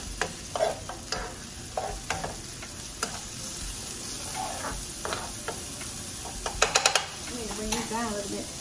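Garlic frying in a pan for black pepper chicken, a steady sizzle broken by sharp spoon ticks and scrapes against the pan, with a short burst of rapid clicks near the end.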